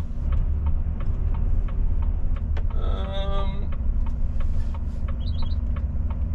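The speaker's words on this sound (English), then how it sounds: "exhaust brakes" A truck's exhaust brake sounds as a low, steady engine drone with a brief buzzing rattle in the middle, heard alone with no talk.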